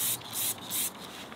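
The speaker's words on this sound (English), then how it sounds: "I'm going to spray that on the tyres, let that dwell for a moment," Decon shampoo sprayed onto car tyres from a trigger bottle, three quick loud hissing bursts in close succession, up close with no talking.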